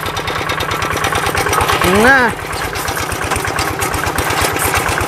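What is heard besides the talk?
tractor exhaust running without CJDW silencer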